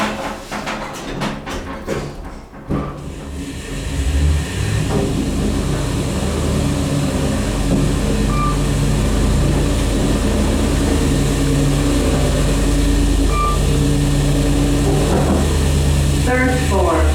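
Historic Otis traction elevator at the Fordyce Bathhouse starting up after a few clunks, then a steady, loud mechanical hum and rumble as the car travels, with faint faraway knocks near the end.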